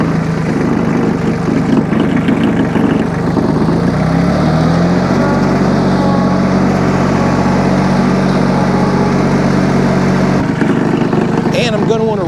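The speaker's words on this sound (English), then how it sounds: "I'm going to want to rev the tractor up to get my hydraulic pump to maximum flow" A Solis H24+ compact tractor engine runs steadily close by, its low hum rising in pitch as it revs, then dropping off near the end, with a voice speaking over it throughout.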